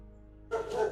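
Dogs barking in the background indoors, a short burst of yapping that starts midway and stays faint and distant over a low steady hum, with no talking.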